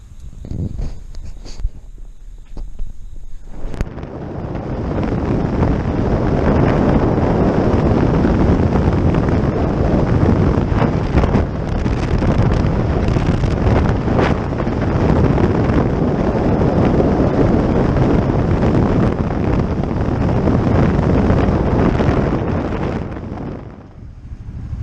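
Steady, loud wind roar buffeting the microphone while riding a bike through the countryside around Brentsville, rising after a few seconds and holding throughout before easing at the end.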